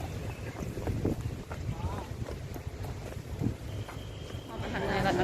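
Cool wind blows across an outdoor spot during a sunny trip around Mahachai, Samut Sakhon, as a continuous rough rumble and buffeting against the microphone, with voices faintly mixed in.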